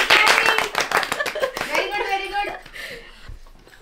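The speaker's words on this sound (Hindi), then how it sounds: "तालियां" Close hand clapping from a few people at a small family honoring, quick sharp claps for about two seconds that thin out, with voices talking and calling out over them.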